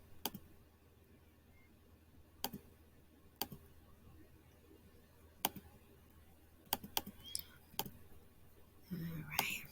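Scattered isolated key taps on a Chromebook keyboard, sparse single clicks spaced a second or so apart over a quiet room hiss, ending with brief rustling.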